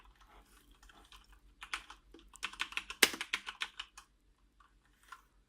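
Cherry MX Red mechanical key switches clatter on a Corsair K65 keyboard with an aluminium body, a close burst of rapid typing that swells to a dense flurry mid-way, then trails off into a few isolated keystrokes.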